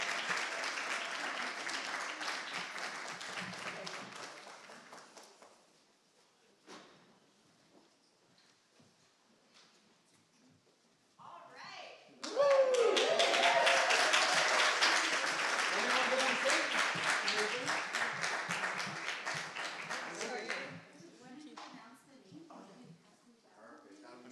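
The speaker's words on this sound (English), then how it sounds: "Gilberto, a round of applause" Audience applause at a Poetry Out Loud 2024 event as participants come on stage, a loud burst of clapping that fades to near silence and then swells again.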